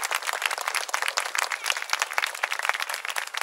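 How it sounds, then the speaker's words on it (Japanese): Warm applause rises from a crowd at a football club's home season opener, a continuous fairly distant patter of many hands clapping without pause. "温かい拍手をお送りください"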